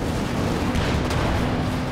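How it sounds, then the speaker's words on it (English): Tank cannon fire from the Company of Heroes 2 strategy game, a shot striking a Panzer IV, heard as a dense, continuous low rumble of battle with brief sharper blasts standing out midway through. "he accidentally shot the Panzer IV"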